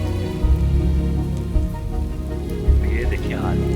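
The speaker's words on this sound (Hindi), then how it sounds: "लगातार हो रही बारिश की वजह से हम लोग पूरे भीग गए थे" Heavy, steady rain pours on a mountain trek on the Manimahesh Yatra route, a dense, loud hiss close by with low rumbling underneath and a few brief bumps and faint voices.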